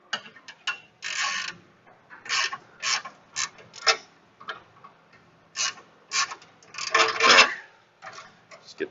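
Wrench tightening a bolt during automotive shop work, heard as bursts of ratcheting clicks and metallic creaks in short repeated strokes, close and moderately loud with pauses between.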